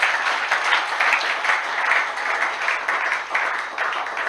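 A church congregation applauding in praise, steady enthusiastic clapping from a crowd filling the room in rhythmic swells without pause.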